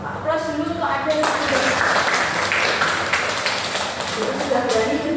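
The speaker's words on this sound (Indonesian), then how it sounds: "Aplaus dulu untuk ada yang" An audience at a school or training gathering in Indonesia breaks into sustained applause, a dense wash of many hands clapping that starts after a brief moment of speech and keeps going at full strength throughout.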